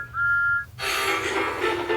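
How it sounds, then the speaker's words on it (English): A short, clear train whistle tone sounds briefly, then gives way to a louder hissing, rushing burst that continues to the end. "Suddenly, they heard a whistle."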